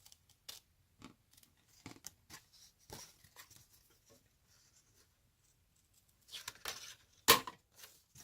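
Scissors snip along the line of a paper die cut, giving a string of short, quiet, crisp cuts at an irregular pace, with a sharper cluster of snips near the end.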